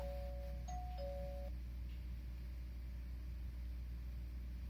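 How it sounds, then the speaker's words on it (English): A Tuwoo smart doorbell call alert sounds on a phone as a short two-tone electronic chime, heard once over a steady low hum. "whenever someone rings your bell, you directly get the call to your phone"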